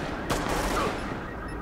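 A short burst of gunfire in The Division video game, a single sharp crack followed by a lingering rumbling tail against steady background noise.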